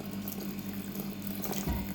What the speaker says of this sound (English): so let's pour some more liquid.